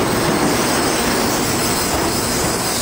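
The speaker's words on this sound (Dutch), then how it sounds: "De Bullet Train." A Japanese bullet train rushes past at close range, a continuous loud broadband roar with steady rail noise and a faint squeal throughout, no speech.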